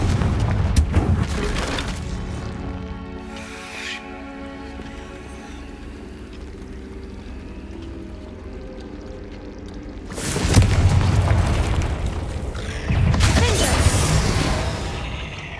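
Confringo fire spells explode in the Hogwarts Legacy video game, heavy booming blasts at the start and two more near the end, with quieter music and ambience between.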